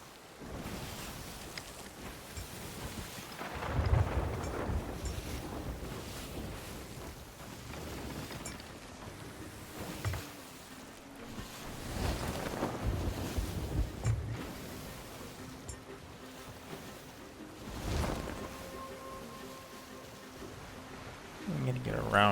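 Storm wind at sea, like a typhoon, blusters and surges in gusts alongside rushing water and waves, with the low roar rising and falling throughout while a person talks over it.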